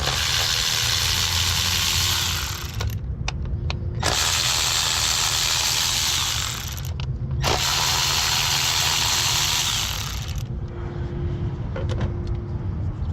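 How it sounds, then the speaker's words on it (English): A ratchet with an 8mm socket removes bolts on a Ford Focus during spark plug and coil boot work, heard as three loud, close runs of mechanical whirring a few seconds each, split by brief pauses over a low background hum. "I'm going to grab an 8mm. Remove the bolts."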